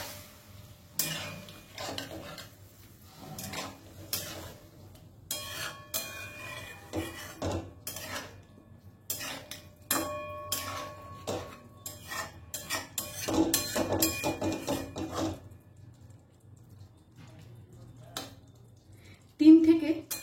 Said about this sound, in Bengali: মশলার সাথে সবকিছু বেশ ভালো করে একটু মিশিয়ে নেব